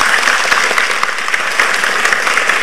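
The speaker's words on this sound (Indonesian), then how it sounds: "Beri tepuk tangan." Loud, dense studio audience applause welcoming two guest doctors onto an Indonesian health talk show, a steady wash of many hands clapping close up for the whole stretch.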